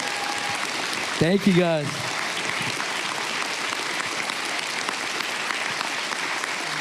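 Steady applause from a convention hall audience at Comic Con Baltics greets someone, with a brief spoken thanks from the stage cutting in early before the clapping carries on.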